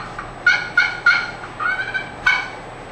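A handheld turkey call imitates a gobbling turkey in a quick series of loud, raspy, rattling bursts with short gaps between them, heard alone and up close.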